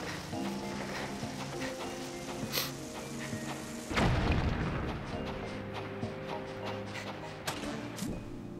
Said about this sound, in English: So I need to blast that rock.